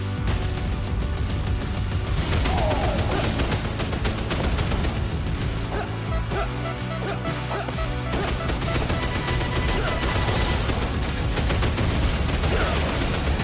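Dense, overlapping gunfire rattles without pause in a Lord of the Rings Total War mod battle, many rifles popping at once over a rumbling low roar, loud and continuous.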